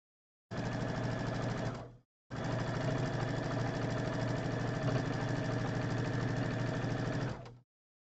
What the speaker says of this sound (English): And then I can just add this last seam here.